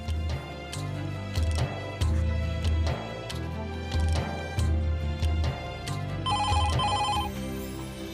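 A telephone bell rings in short electronic bursts, loud and close, over steady background music with rhythmic beats, as someone places a call to an ashram office.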